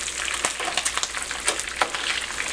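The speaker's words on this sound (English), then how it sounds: "So you turn the bacon over, let the bacon cook on the other side now." Bacon frying in a pan on the stove, a close steady sizzle with crackling pops and spits scattered throughout, no voices.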